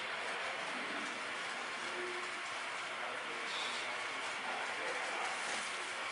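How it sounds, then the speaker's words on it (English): A model train runs down the loop at a railroad museum, giving a continuous faint rolling and rattling of small wheels on track under a steady room hum, with a slight swell midway. "This is such a classic scene of the train going down the loop."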